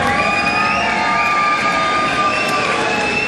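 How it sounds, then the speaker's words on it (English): Applause and cheering from a crowd at a boxing match fill the space as a dense, steady roar that carries on without a break from start to finish. "let's give a big round of applause for both of these gladiators"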